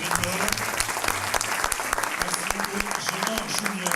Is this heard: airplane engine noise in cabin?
no